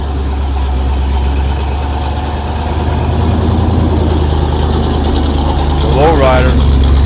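A lowrider classic car, a Riviera at a 1950s-themed classic car show, idles nearby with a steady low rumbling engine throughout, while people talk over it.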